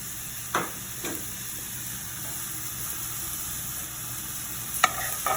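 Rice toasting in a pot for a coconut chicken curry with ginger jasmine rice, giving a low, quiet sizzle under a steady hum, with a few faint scrapes of stirring near the start and end.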